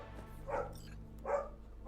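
Two separate barks from excited dogs, spaced about a second apart, moderately loud over a quiet low hum.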